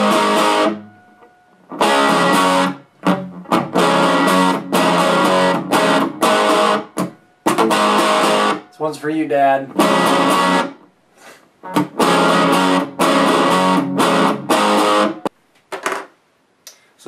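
A loud electric guitar through an old 1980s Boss DS-1 distortion pedal and a homemade amp plays crunchy chords in bursts with short breaks, and a voice speaks briefly.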